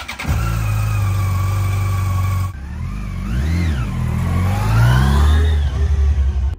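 A dual-sport motorcycle, a DRZ, revs and rides off from beside a camper van on a hot day, its engine note loud and close, rising and falling through gear changes as it pulls away, with no talking.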